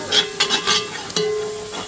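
A spoon stirs food in a cooking pot, making several close, loud scraping strokes with a light sizzle underneath over a couple of seconds.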